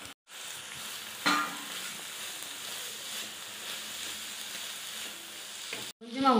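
Boiled dal and roasted coconut being fried together in a pan for a sweet poli filling, a steady close sizzle broken by a sharp clink near the start and a brief pause before a final burst of stirring noise.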